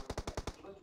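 Rapid burst of five gunshots from a video game shooter, evenly spaced and loud, ending with a short fading tail.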